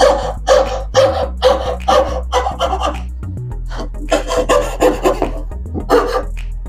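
A fret saw rasps through wood in quick, rhythmic strokes, each pass scratching close and steady over a low constant hum.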